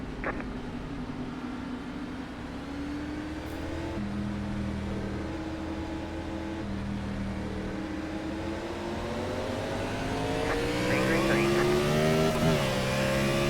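Race cars in iRacing at Martinsville: a steady engine drone with pitch slowly climbing as the cars accelerate, several engines layered together, a continuous moderate roar growing a bit louder toward the end.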